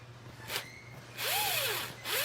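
A power driver whirs in short bursts, rising and falling in pitch as white screws are driven in while installing a MaxxFan Deluxe roof vent, close and moderately loud.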